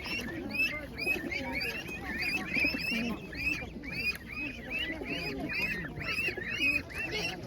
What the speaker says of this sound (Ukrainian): Гарні, дуже гарні голуби.